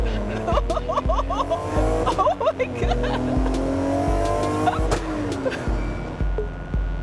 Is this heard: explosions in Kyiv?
no